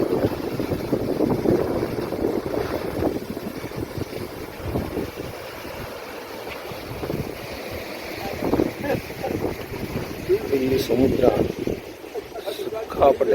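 Sea waves break close to the shore in Bali, a steady surging wash mixed with gusty wind buffeting, while a person talks over the surf throughout.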